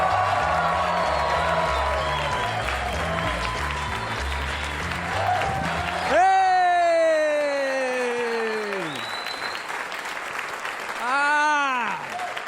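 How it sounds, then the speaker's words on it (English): A crowd at a New York comedy club applauds and cheers a comedian taking the stage. Dense applause and whoops carry under an announcer's voice and music, then a loud sliding musical tone cuts across the noise. "Warm round of applause for Dave Temple."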